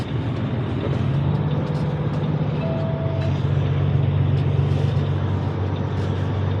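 A truck delivering trusses sits stuck, its engine droning loud and steady with a low rumble as the wheels spin in place, no voices.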